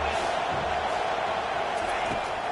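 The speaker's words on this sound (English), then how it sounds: "how nice is it to have the home crowd going absolutely bananas?" A home football crowd roars during a third-down defensive stand. The cheering is a dense, loud, sustained wall of noise with no breaks, with a commentator's voice faintly underneath.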